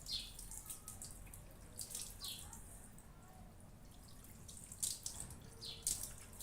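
A hand sprayer mists water over a tyre to find a puncture, producing faint, intermittent hissy spurts against a quiet outdoor background with a few soft chirps.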